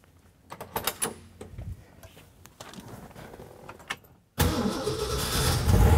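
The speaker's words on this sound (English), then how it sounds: "Let's start her up." Some clicks and rustling, then the 390 V8 engine of a 1967 Mustang GT Fastback cranks and roars to life, settling into a loud, rumbling idle.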